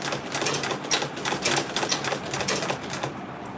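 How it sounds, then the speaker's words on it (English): A sewing machine back stitches through fabric on an Ankara tote bag, sounding as a rapid, steady needle chatter with quick bursts close by and no talking. "So I'll start sewing. I'll back stitch first."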